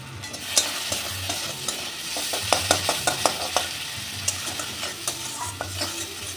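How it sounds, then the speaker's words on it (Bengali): Onion, ginger, garlic and green chilli paste frying in hot oil for a prawn dish, with a steady close sizzle broken by repeated spatula scrapes and stirring clicks against the pan. "এবার দিয়ে দিচ্ছি পেঁয়াজ, আদা, রসুন আর কাঁচা লঙ্কা বাটাটা।"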